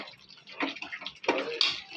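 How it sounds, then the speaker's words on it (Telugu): Water pours into a cooking pan of sizzling gravy, a short splashing run with two brief louder surges, close by and fairly quiet. "ఇప్పుడు కొంచెం వాటర్ వేసేసి"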